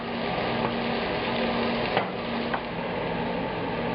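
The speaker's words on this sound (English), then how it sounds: "We want to fry the chorizo, but we don't want to overdo it here." Chorizo frying in a pan over lowered medium heat, a steady soft sizzle with faint crackles and a couple of small pops, close and continuous with no talking.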